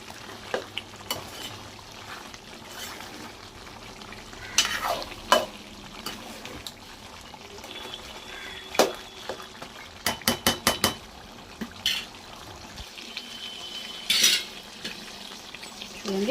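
Chicken curry masala sizzling and frying in a pan, with spoon scrapes and clanks of the utensil against the metal as the spices and coriander powder are stirred together; steady sizzle throughout, punctuated by sharp bursts of stirring.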